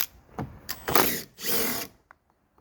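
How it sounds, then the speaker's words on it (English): A power drill removes a bolt from a 2009-2014 Ford F150 door, whirring in two short bursts, with a longer sustained run after a brief pause, close and fairly loud, ending with faint clicks. "I'm just gonna bring in our power tools here"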